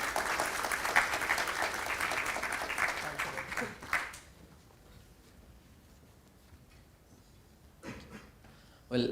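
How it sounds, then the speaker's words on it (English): Conference audience gives a round of applause for a speaker, steady clapping that stops abruptly after about four seconds, followed by quiet room tone and a short burst of sound near the end. "can we have another round of applause for Dr. Alpan?"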